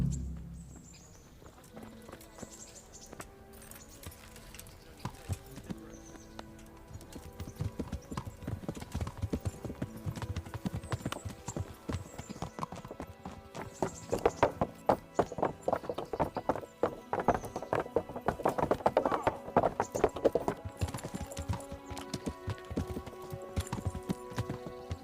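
A horse ridden in the medieval game Kingdom Come Deliverance clip-clops along in a steady walking rhythm, its hooves growing louder and busier midway, with a brief whinny.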